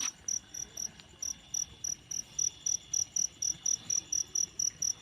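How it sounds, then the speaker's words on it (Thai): Crickets chirp in a steady, even pulse, about three chirps a second, close and clear over a quiet night background. "เสียงจิ้งหรีดธรรมชาตินะครับ"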